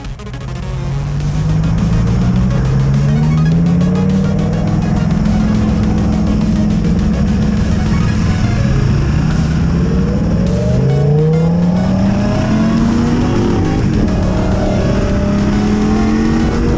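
Sports cars including a Lamborghini Huracán and an Aston Martin Vantage roar along a winding mountain road, engines loud and close, revs rising and falling through repeated gear changes as they pass.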